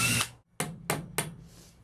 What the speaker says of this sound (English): Now I'm going to do a little pre-drilling.